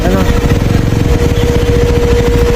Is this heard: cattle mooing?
no